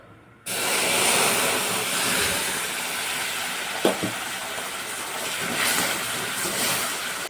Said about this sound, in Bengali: দুধটা তো ঢেলে দিলাম